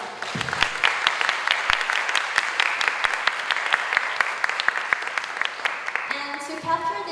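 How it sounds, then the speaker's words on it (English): An audience at a startup pitch final claps for the winner, a loud, dense run of overlapping claps that tapers off near the end as a voice begins speaking. "give another round of applause for our winner"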